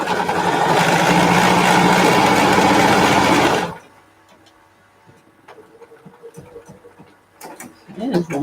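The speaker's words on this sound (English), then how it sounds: "All I need to do is sew each seam." A sewing machine stitches the side seams of a fabric face mask, running loud and steady for several seconds before stopping, followed by quieter handling clicks and rustles.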